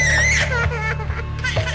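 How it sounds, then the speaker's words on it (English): A 21-month-old girl in the middle of one of her daily screaming fits, with loud, continuous high-pitched crying and shrieking close by that rises and falls over a steady low hum. "Her daily screaming fits have taken over the life of her mum"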